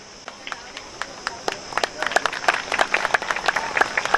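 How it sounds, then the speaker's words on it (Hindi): A crowd at a Rajbhar community convention in Katni claps in welcome for a guru. The applause is sparse at first, then builds into dense, steady clapping. "जोरदार तालियों से स्वागत कीजिए।"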